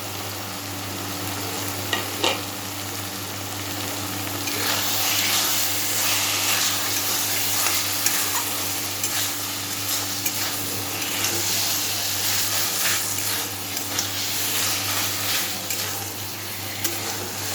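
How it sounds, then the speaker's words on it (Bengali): Fried prawns stirred into taro greens cooking in oil in a pan, a steady loud sizzle with scraping stirs and spatula knocks throughout, no voices. "এইবার আমি এর মধ্যে ভেজে রাখা চিংড়ি মাছগুলো দিয়ে দিচ্ছি।"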